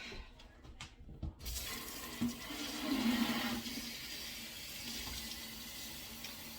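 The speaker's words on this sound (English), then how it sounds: "So I'm going to water these." Water pours from a tap or watering can into a seed starting tray, a steady close splashing trickle that runs for several seconds after a few handling clicks and knocks, with no talking.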